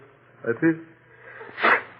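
On an old 1940 radio comedy show, a single sharp sneeze bursts out near the end, shortly after a few quick spoken syllables, with thin, slightly noisy vintage broadcast sound.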